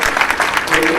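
A brief burst of audience applause at a public library eye camp, many hands clapping together in a short, dense patter, with a voice heard over it.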